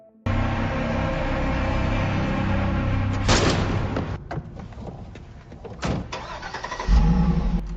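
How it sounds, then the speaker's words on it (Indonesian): A car engine roars loudly and steadily, then rises with a sharp burst as it pulls away. More bursts and a fading rumble follow, and a final loud thump ends it. "Kemudian ia pergi meninggalkan lokasi menggunakan mobil bersama teman-teman."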